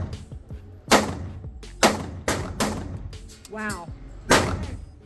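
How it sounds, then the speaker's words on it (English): A 5.7 pistol fires several sharp, loud shots at irregular intervals, each a crisp crack with a short ringing tail. A voice briefly exclaims between the shots. "I'm going to take 4 shots, and I'm going to let you know what I think about it"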